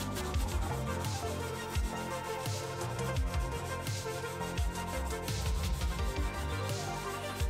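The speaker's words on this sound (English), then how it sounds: "So you can take your block, give it a roll, find the right angle that it fits at, and then work it." A sanding block rubs steadily back and forth across the plastic hard body of a 1/10-scale RC Ford Bronco, a close, continuous scratchy abrasion with repeated strokes and no talking.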